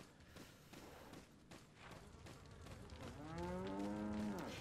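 A cow lows in Resident Evil 4, a single drawn-out moo that swells near the end over a quiet, rumbling game ambience, with no voices.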